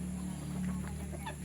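Free-range chickens heading back to their shelter: a few soft clucks and short chirpy calls, close but quiet, over a steady low background hum.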